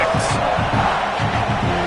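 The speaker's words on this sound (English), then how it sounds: "The roar of the crowd trying to fuel this defense to keep them pinned in their own end" Crowd roaring at an American college football game, Vanderbilt versus South Carolina, a dense continuous wall of noise with rhythmic chanting or stomping pulses underneath, loud and sustained.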